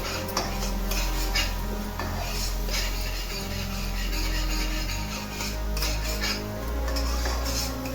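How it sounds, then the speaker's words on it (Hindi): Spices such as roasted cumin and coriander powder being stirred and roasted in a pan for papaya paneer, with repeated metal utensil scrapes and clinks against the pan over a low steady hum. "इसे अच्छे से भून लेना है हमें"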